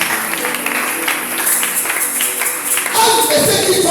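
A church congregation applauds for the Lord during a sermon, with steady, fairly loud clapping from a crowd that swells toward the end, mixed with voices.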